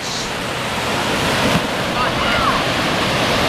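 Ocean surf rolling in steadily at South Padre Island beach, with gusting wind buffeting the microphone throughout, broad and continuous.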